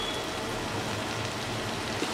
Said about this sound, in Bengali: এবার আমি এর মধ্যে চ্যাপা শুটকিটা দিয়ে দিচ্ছি। সব কিছু একসঙ্গে ভেজে নিব।